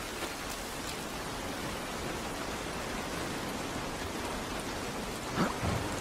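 Steady rain pours outside in The Last of Us Part I, a constant dense hiss with no break, with a few faint brief sounds near the end and no talking.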